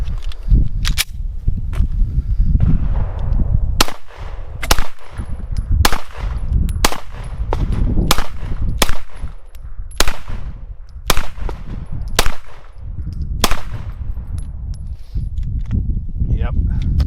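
Gen 3 Glock 19 9mm pistol fired through a full magazine outdoors, a string of sharp, loud shots spaced about a second apart with a steady outdoor rumble beneath.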